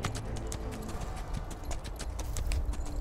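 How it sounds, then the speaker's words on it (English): A green colt being broken in clip-clops with steady hoofbeats on firm ground, close and continuous, with no talking. "I'm a little bit nervous getting on a green colt, and I trust him, but I don't think he trusts me yet."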